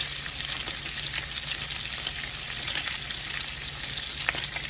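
Bacon fries in a pan, a dense continuous crackling sizzle at moderate level with scattered sharp pops and a low hum underneath, with no voices.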